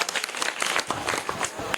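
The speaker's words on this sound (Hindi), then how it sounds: "सही जवाब है सर, बिल्कुल सही जवाब है, जोरदार तालियां।" Applause from a crowd at an Indian quiz-style event after a correct answer, brisk dense clapping close by and steady across the moment.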